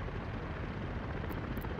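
Helicopters in the management game Workers & Resources give off a steady, dense rotor drone with a low rumble that holds evenly throughout, without any talk.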